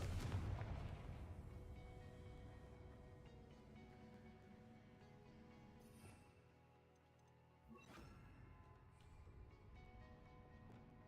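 A Confringo fire spell bursts in Hogwarts Legacy, the video game: a dense, rumbling blast that dies into a sustained roar. A sharp second crack flares up about two-thirds of the way through, set against a steady game soundscape.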